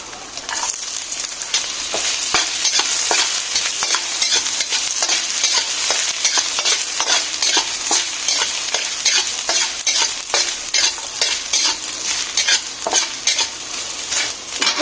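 Ginger sautés in oil in a pan for sinigang sa miso with talakitok fish, with a continuous close sizzle and frequent sharp scrapes and clicks of a utensil stirring against the pan.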